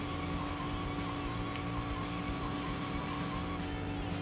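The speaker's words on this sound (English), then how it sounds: "It's a nice drift sound, isn't it? It's real satisfying." A car drifting in the video game Sonic Adventure 2, a steady tire skid with a constant engine drone underneath, holding evenly for several seconds at moderate volume.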